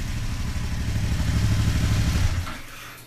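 Aprilia Dorsoduro 1200 motorcycle engine running loud and close in a basement, with a steady low rumble that cuts out around two and a half seconds in, leaving quiet.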